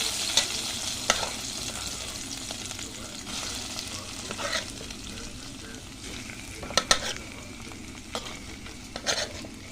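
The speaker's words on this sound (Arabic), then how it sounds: "زي ما انتم شايفين كده صوت طشه الخضار في الطواجن، لان الطواجن بتاعتي كانت سخنه قوي." Vegetables hiss and sizzle as they drop into very hot clay tagines holding fatty meat for a Turkish-style turli, a dense close frying crackle punctuated by sharp stirring and clinking, with no talking.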